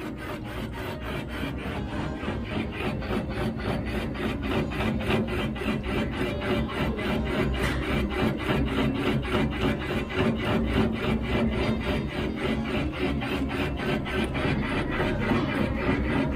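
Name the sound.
line boring machine cutting Scania kingpin bore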